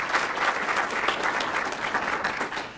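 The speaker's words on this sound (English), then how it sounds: "Give her a clap." An audience at a Rotary entrepreneurial awards event applauds a co-host, steady dense clapping from many hands filling the room for about three seconds, with no talking over it.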